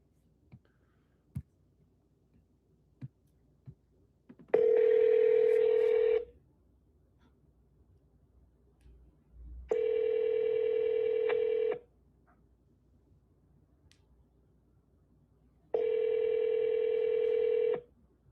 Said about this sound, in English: I'm double dialing.